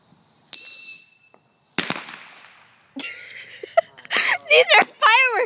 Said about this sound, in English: These are firework fails.